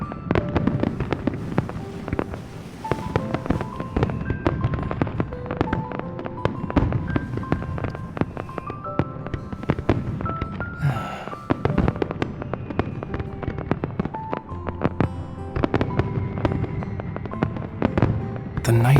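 Fireworks in the video game Love and Deepspace pop and crackle in dense bursts against a night sky, loud and continuous for the whole stretch, layered over soft ambient game music, with no talking.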